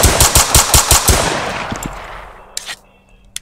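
Pistol fire from a Roblox gun system in a video game: a fast burst of about eight loud close shots, then a decaying tail and a couple of fainter clicks.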